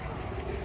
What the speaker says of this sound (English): Huge number of water birds